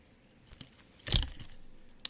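Keychains with small metal parts jangle in one brief, faint shake that stands alone against a quiet room.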